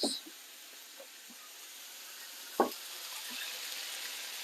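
Chilli pork stir-frying in a hot wok, a quiet steady sizzle with a few soft knocks and stirring clatters, one sharper clack partway through, no one talking.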